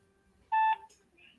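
Telephone keypad dialing tone, a single short steady beep pair heard close and clear just before a call is placed, with faint background noise around it.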